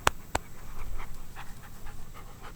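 A dog pants in the heat beside an Evo car, short quick breaths in a steady rhythm after a couple of sharp knocks, close and fairly quiet.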